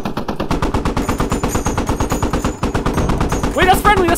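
Rapid sustained machine gun fire in the Squad video game, loud and close with evenly spaced bursts of rattling shots, joined near the end by shouting voices over the gunfire.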